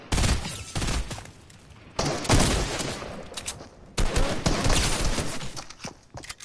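Fortnite battle royale gunfire rattles in dense bursts of rapid shots, three loud volleys separated by brief pauses, with footsteps and game effects mixed in.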